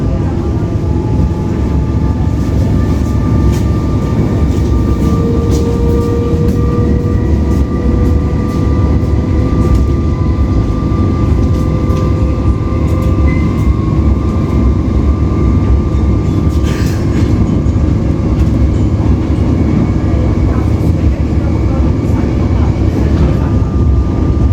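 A Comeng electric train in Melbourne accelerates, its loud continuous motor drone and rumble steady throughout, with rising whining tones layered on top as it gathers speed.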